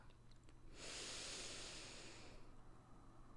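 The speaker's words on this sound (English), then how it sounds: "Take a long, slow, deep inhale" A long, slow, deep inhale drawn close to the ear as a steady airy rush, swelling in and holding for nearly two seconds before easing off, alone in a quiet room.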